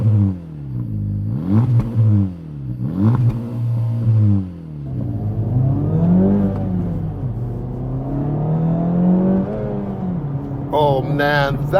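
A 2024 Acura Integra Type S with active exhaust revs hard several times, each sharp rising blip falling back, then climbs into a longer sustained rev, loud and close, with a brief burst of other noise at the end.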